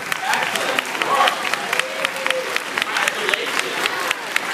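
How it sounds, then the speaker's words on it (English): An audience claps for honor roll students who stand up, dense crackling applause filling the clip with a few sharp individual claps standing out, and some voices faintly mixed in beneath. "stand up so we can give you a round of applause"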